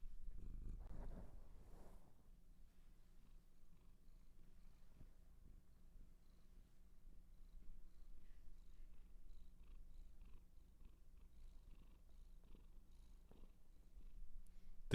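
A pet cat purrs softly and steadily close by in a quiet room, a low, continuous rumble running throughout with no talking.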